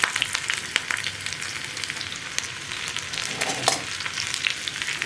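Onions frying in coconut oil with mustard and fenugreek seeds for padavalanga pachadi, a close, lively sizzle with crackling pops and occasional stirring scrapes.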